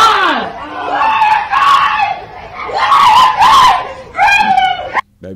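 A person screams loudly and repeatedly in long, wavering cries with brief gaps, close and raw, ending in a short burst near the end of the stretch.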